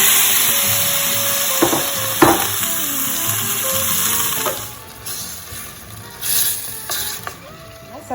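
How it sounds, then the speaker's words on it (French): Dried beef fries in olive oil in a hot pan, giving a loud, steady sizzle with a few sharp clicks and scrapes, a high whine running through it. "Et je vais mettre toute ma viande ici, d'accord? Pour la faire revenir."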